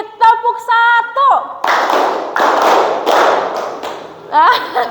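Group of students in a classroom clapping in unison on a teacher's call, a short series of broad, sharp claps with brief gaps, preceded by a voice speaking.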